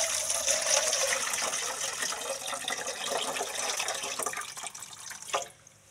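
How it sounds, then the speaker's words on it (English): Rice being rinsed in water to wash off starch, with continuous sloshing, running and dripping water close by that swishes steadily before dropping off abruptly at the end. "I want to wash the rice to remove all the starch"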